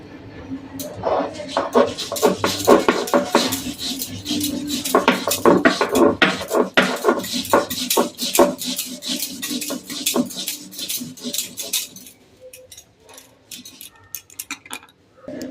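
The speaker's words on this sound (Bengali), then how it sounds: "ধুয়ে এবার আমি পোস্তটাকে বেটে নেব" Washed poppy seeds are ground into a paste for a prawn malai curry, giving repeated scraping and knocking strokes in a steady rhythm, fairly close and moderately loud, easing off toward the end.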